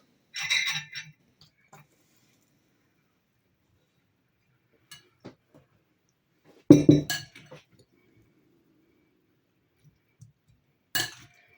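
A few sharp ceramic clinks of a plate being handled while a salad is laid out, short bursts separated by quiet gaps, close by and moderately loud.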